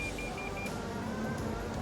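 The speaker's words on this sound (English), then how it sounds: "we've got beeps going on everywhere here" A Toyota's parking sensor sounds a short series of quick high beeps, then a longer lower tone, inside the cabin over a loud steady engine and road rumble.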